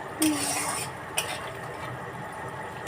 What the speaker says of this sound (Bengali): এই যে আমি এখন একটু নাড়াচাড়া করে দিচ্ছি।